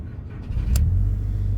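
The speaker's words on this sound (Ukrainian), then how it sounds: "Будемо заводити двигун." A 2002 Skoda with a 1.8 engine, set up for LPG, starts with a short crank and a brief rise, then settles into a steady idle rumble close by.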